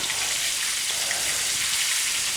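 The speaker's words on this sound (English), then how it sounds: "So we'll let these have a bit of a sizzle, and we'll be right back and flip them." Pork schnitzel sizzles steadily in a frying pan, a continuous dense crackling hiss that stays even and moderately loud throughout, with no voices.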